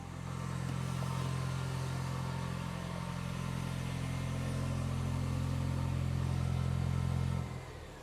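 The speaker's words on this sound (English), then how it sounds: "Now let's hear that idle from outside." A 2024 Toyota Land Cruiser turbo four-cylinder engine idling steadily outdoors, heard from outside, with a smooth, low hum for several seconds before it cuts off near the end.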